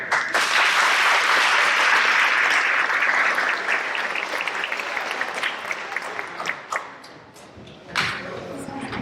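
Sustained audience applause at a school eighth-grade awards program, a dense wash of many hands clapping that gradually thins and fades toward the end.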